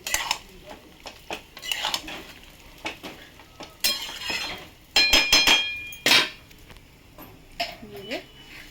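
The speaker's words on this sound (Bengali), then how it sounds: "একটু নেড়ে নেবো" Chillies stirred in raw mustard oil in a pan, with clinking and scraping of a utensil against the pan in short irregular bursts, close by, with a voice talking between them.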